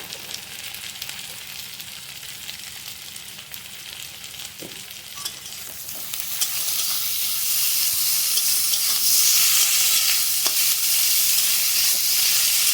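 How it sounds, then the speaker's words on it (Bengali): Chopped tomatoes fry with reddened onions in mustard oil for a spicy fish dish. A close, steady sizzle swells louder halfway through, with occasional stirring taps. "তো দেখো পেঁয়াজটা লাল ভাজা হয়ে গেছে এবার আমি টমেটোটা দিয়ে দিলাম"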